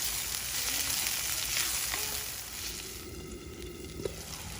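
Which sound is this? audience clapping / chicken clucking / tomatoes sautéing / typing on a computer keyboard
tomatoes sautéing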